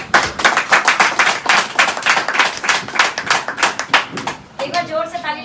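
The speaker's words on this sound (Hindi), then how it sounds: "ताली लगा दो एक बार कंपनी के लिए।" A crowd at an Ok Life Care business plan meeting claps steadily and densely for about five seconds, loud and close. A brief voice or tone follows at the end.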